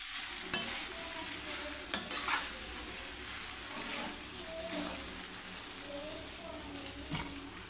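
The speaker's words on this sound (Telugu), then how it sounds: "బాగా కలుపుకోవాలండి." Tamarind rice being stirred in a pan, with a soft sizzle and repeated scraping, clinking strokes of a spoon against the metal at an irregular pace, close and fairly quiet.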